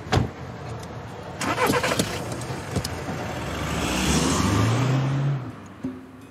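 A car engine cranks and catches, then revs and idles before the car pulls away with a rising engine note, heard at moderate distance among small thumps and ambient noise.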